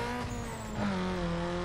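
Race start in Need for Speed Underground 2, a car video game: a steady engine drone holds throughout and swells louder near the end as the car accelerates, with a faint tire squeal.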